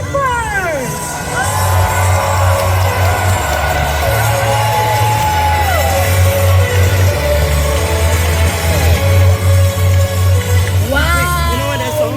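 Crowd at a National Day Parade show at the Padang cheering, whooping and screaming for the Red Lions parachute jumpers, a loud sustained roar of voices with music playing underneath.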